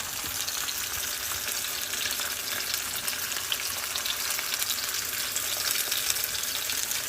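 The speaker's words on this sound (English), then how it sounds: "we're just searing it in a little bit of avocado oil" Sesame-crusted ahi tuna searing in a little avocado oil, a steady close crackling sizzle that holds evenly for several seconds with no voices.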